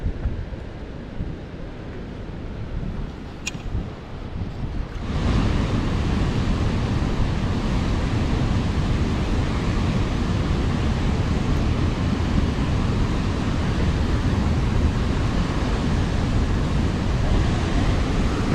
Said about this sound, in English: This is the waterfall that comes out of Lake Woodjawn.